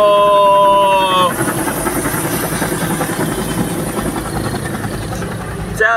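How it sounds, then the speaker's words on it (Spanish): A helicopter's rotor chops steadily with a loud engine roar, after an opening moment of tonal, siren-like sound fading into the rhythmic beating. "Tenemos un helicóptero aquí."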